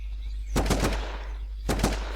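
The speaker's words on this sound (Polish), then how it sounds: "Kto mi strzela w plecy?" Two short bursts of automatic gunfire in Terrorist Takedown, each a rapid volley of sharp shots, loud and close, separated by about a second of quiet hum.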